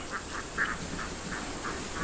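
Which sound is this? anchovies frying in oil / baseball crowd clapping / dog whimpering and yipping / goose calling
goose calling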